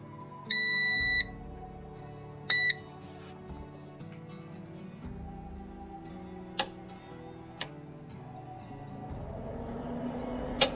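A PowerShield PSCRT2000 line-interactive UPS sounds its battery disconnect alarm as two short high electronic beeps, the first longer, followed by a low hum and a couple of faint clicks.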